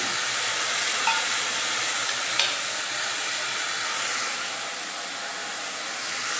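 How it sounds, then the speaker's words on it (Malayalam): Onion and green chilli go into a hot pan for a potato thoran, producing a loud, steady hissing sizzle close by with a couple of faint clicks, no voices. "കൂടെ തന്നെ സവാള ഇട്ട് കൊടുക്കുക പച്ചമുളക് ഇട്ട് കൊടുക്കുക"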